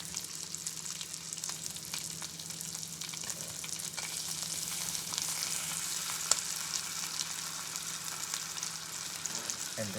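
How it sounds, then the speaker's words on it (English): Bacon fries slowly in a pan, giving a steady, moderately quiet sizzle and crackle throughout with occasional small pops, and no voices are heard. "I like to cook my bacon slow so it can be even cooked."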